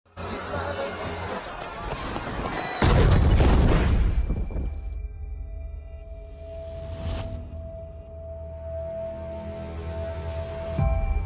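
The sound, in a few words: bomb explosion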